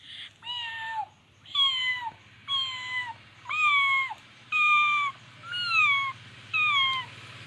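A tenth-standard boy mimics a kitten's meow with his voice, producing seven drawn-out, rising-and-falling mews in an even sequence, each separated by a brief pause, close and clear.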